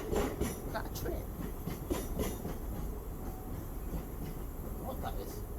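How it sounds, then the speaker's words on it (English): A train passes at a distance with a faint, steady rail rumble and a few clicks, set against quiet outdoor background noise on a city street. "Is that a train?"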